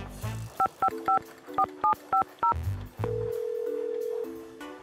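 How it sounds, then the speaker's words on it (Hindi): Touch-tone telephone dialing beeps out a quick run of about nine clear tones in an even rhythm, followed by a long steady ringback or dial tone, loud and close, with no talk. "रोहन फोन उठा ले यार"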